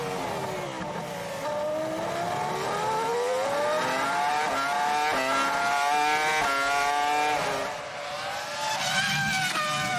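Formula 1 cars from the 2004 season, a Sauber closely chased by a Toyota, scream past with a loud, high engine whine that rises and falls through gear changes, continuous and close, with no talk.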